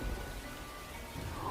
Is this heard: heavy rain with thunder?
yes